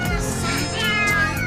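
Hungry cats meow loudly and close while eating leftover sushi, drawn-out tonal cries overlapping in a cartoon scene with a busy backdrop.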